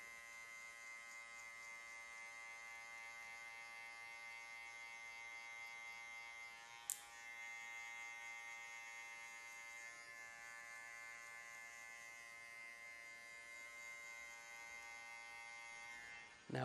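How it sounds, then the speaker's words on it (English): Electric hair clipper cutting a mid drop fade in a barbershop, a steady close buzz with a constant pitch that holds throughout, broken by one brief click near the middle, with no speech. "I'm gonna use the corner of the clipper"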